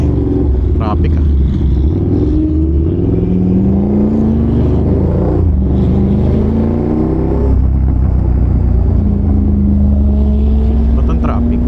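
Heavy road traffic in stop-and-go conditions on the way to a riding seminar: car and motorcycle engines rumble and rev steadily close by, with engine pitch rising and falling while people talk over the noise throughout.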